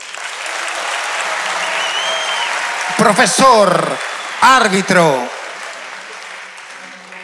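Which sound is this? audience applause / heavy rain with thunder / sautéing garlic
audience applause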